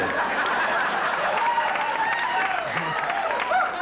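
A television studio audience cheers and applauds for Regis Philbin's 30th anniversary in show business, a dense sustained roar of clapping and crowd noise with voices rising through it.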